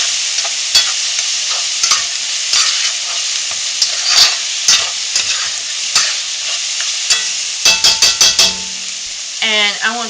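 Tofu and bell peppers stir-frying in a pot, a steady close sizzle with repeated sharp scrapes and clacks of a utensil stirring against the pot bottom, ending in a brief squeaky scrape.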